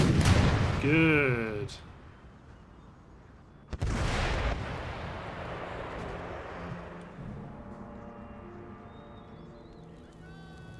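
Musket volleys and artillery in Empire Total War play out in a battle as Mysore, with a loud opening shot, a sharp blast near the middle, then a fainter ongoing rumble of distant fire, while a player talks briefly.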